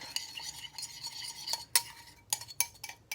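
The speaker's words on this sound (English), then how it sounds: "Now we're gonna mix this up." Seasoning and peppers tossed together in a bowl, quiet rustling and scraping with a few sharp utensil clinks against the bowl, close and intermittent with no talking.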